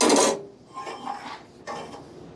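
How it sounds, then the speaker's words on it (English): A steel rod sliding out of a Craftsman radial arm saw during a teardown, beginning with a loud metallic scrape followed by softer grinding, rubbing metal sounds close by. "And that steel rod just slides right out."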